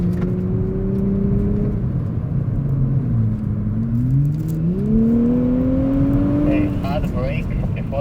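A 400-horsepower Nissan Z sports car on a test drive, its engine droning steadily and then climbing in pitch as it accelerates through the gears, heard from inside with a loud low rumble of road and tyre noise.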